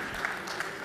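Audience applause at a French conference on savings and taxation, a brief, moderately quiet patter of clapping from a seated crowd.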